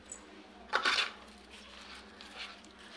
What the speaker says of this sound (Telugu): అలా యాడ్ చేసుకుని బాగా మిక్స్ చేసుకోవాలి.